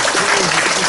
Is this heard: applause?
yes